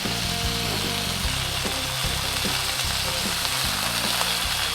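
Burger patties for a Shake Shack–style copycat sizzle and crackle loudly and continuously on a hot outdoor grill, with faint clatter underneath and no talking.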